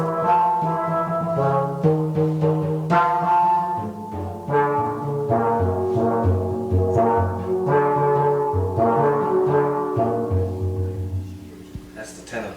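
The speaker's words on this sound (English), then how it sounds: "That's the tenor bass." Tenor bass steel drum from 1977 New York plays a flowing run of resonant, ringing melodic notes, struck close and steadily for several seconds with a mellow, rounded tone.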